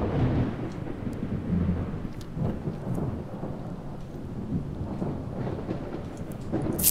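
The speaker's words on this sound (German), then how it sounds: "Das Gewitter zum Untergang." Thunderstorm in the survival video game Project Zomboid: steady, loud rolling rumble with rain hiss running throughout, swelling slightly at the end, with no talking.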